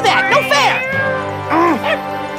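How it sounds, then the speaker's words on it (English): A cat meows several times in short, rising and falling calls, loud and close, in a scene from a 1997 children's television program. "Kitty, kitty, kitty, kitty, kitty. Come on down. Good kitty."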